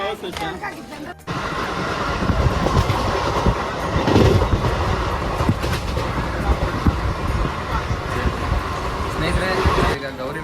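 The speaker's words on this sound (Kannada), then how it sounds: "ಈಗ ಗೌರಿಬಿದ್ನೂರಲ್ಲಿ ಟ್ರೈನ್ ಹತ್ಬೇಕು ನಾವು ಟ್ರೈನ್ ಬಂದು ನಿಂತಿದೆ" Crowded passenger train, the Basava Express, standing at Gauribidanur station during boarding: a steady rumble of rail and carriage noise with a busy platform crowd. People talk throughout.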